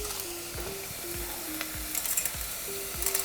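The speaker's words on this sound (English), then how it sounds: "Now the onions are golden brown, getting golden brown." Onions sizzle and fry in a pan until golden brown for a South Indian sambar, with a steady close hiss broken by light stirring knocks and scrapes throughout.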